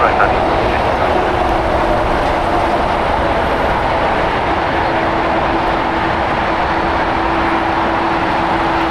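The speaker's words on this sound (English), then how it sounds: "Atlas Air Flight 8628 lining up on 25 right for departure to Anchorage, Alaska. It's a Boeing 777 freighter" An Atlas Air Boeing 777 freighter lines up on the runway at LAX for departure, a loud steady jet engine roar with a sustained tonal hum, continuous throughout.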